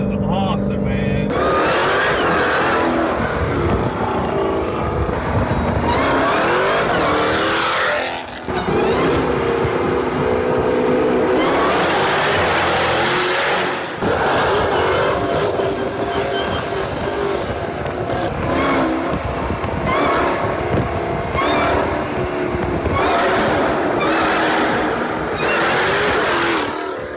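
A 1,000 horsepower Jeep Trackhawk on drag radials roars loudly and continuously while being driven hard, with repeated revving surges and a brief lift-off, as people talk over the engine.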